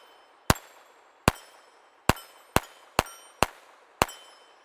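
A Walther P22 pistol fires CCI Subsonic ammunition: seven sharp, loud cracks at irregular intervals of roughly half a second to a second, each with a short ringing tail, and no talking.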